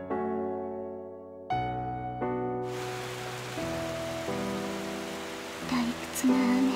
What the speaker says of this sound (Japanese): 退屈な雨。